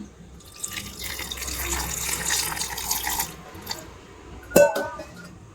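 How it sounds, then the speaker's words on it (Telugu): Water poured into a grinder jar over green chilli, cumin and turmeric for a spice paste: a steady splashing pour for several seconds, then a brief clatter and a few drips close by. "కొంచెం వాటర్ వేసేసి"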